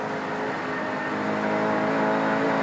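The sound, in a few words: Peter Brock's touring car shifting through 6-speed gearbox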